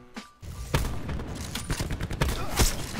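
Rapid bursts of gunfire from the video game Black Ops 4, dense and loud with several sharp shot peaks in a continuous firefight, with no talk over it.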